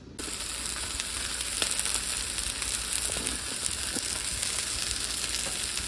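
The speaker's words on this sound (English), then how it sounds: "The first thing you need to do is to get a good sear on this cowboy steak." A thick cowboy ribeye steak sears in a hot pan, hissing with a loud, continuous sizzle that starts abruptly and holds steady, with faint crackles and pops scattered through.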